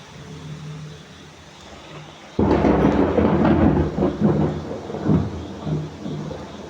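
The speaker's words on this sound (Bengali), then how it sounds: "বাহিরে ঝুম বৃষ্টি হচ্ছে।" Heavy rain falls outside as a sudden loud thunderclap breaks in partway through and rolls into a long, deep rumble over the steady rain.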